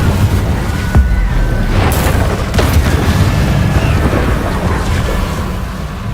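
An Incendio fire spell in the Hogwarts Legacy video game bursts with a loud, heavy boom and rumbling roar, punctuated by a few sharp impacts over a sustained low, fiery rush.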